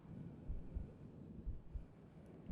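A soft, muffled heartbeat is heard up close during a tight ASMR hug, with low paired thumps repeating about once a second at a faint level.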